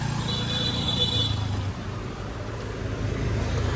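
Congested street traffic in Hanoi, a steady low rumble of idling and creeping car and motorbike engines packed close together, loud and continuous for several seconds with a faint high tone above the churn.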